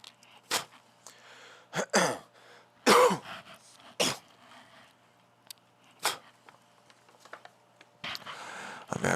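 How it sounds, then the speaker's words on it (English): Several sharp, harsh coughs close to the mic, spaced a second or two apart, with quiet clicks in the gaps. "Now I have to cough."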